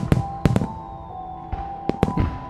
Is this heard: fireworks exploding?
yes